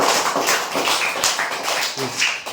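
A group of children clapping their hands together to cheer a winning quiz team, sustained dense applause that runs steadily and close for the whole stretch before stopping abruptly.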